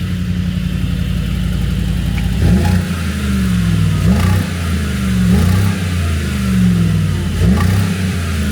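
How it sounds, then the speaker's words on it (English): A Mercedes G63 AMG in Sport Plus mode revs hard four times in quick, uneven bursts, each bark rising and falling back to a loud, rumbling idle with no talking. "Put it in Sport Plus, so give me some revs."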